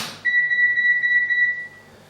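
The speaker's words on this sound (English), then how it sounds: "hold down the select button and switch it on, it will beep 5 times." An Aneng AN870 multimeter gives one steady electronic beep tone, held for about a second and a half, when switched on with the select button held down to override auto power-off. The tone is loud and close, with no talking.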